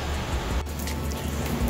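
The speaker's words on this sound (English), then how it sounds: "I walked outside and it was raining." Rain falls outside as a steady, soft hiss of drops on surfaces, continuous and even with no voices.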